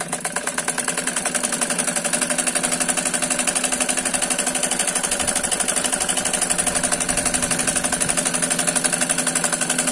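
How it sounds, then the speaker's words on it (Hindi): A sewing machine stitches a Patiala salwar hem in a fast, continuous mechanical chatter, loud and close, with an even rapid pulse throughout and no talk over it. "देखिए, बराबर मोड़ लेंगे ऐसे करके, उसके बाद हम सिलाई कर देंगे।"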